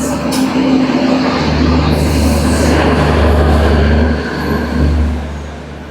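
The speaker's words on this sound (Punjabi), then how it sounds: "ਲੋ ਜੀ 10 ਮਿੰਟ ਲੇਟ ਤੇ ਟ੍ਰੇਨ ਆਪਣੀ ਆ ਗਈ" A passenger train bound for Delhi pulls into a station platform, its loud low rumble rolling close and steady before easing off at the end.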